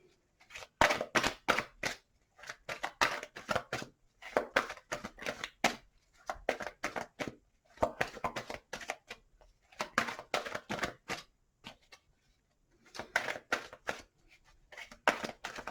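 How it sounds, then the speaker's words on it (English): Bursts of crisp, riffling tarot card shuffles come in repeated clusters with short pauses between, close and fairly quiet, with no talking. "I might just give them a little bit more of a shuffle for you"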